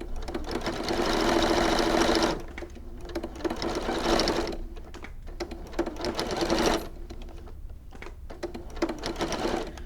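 A sewing machine stitches zip binding onto a quilt in three long, steady whirring bursts of rapid needle clatter, recorded close, with short pauses between them.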